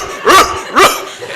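A person's voice imitates a dog barking, two sharp loud barks close to the microphone about half a second apart, with a short pause after.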